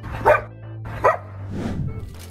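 A dog barks twice in sharp, close yips, then lets out a longer whining bark over a steady low hum, in a setting where the dog is helping a driver park a car.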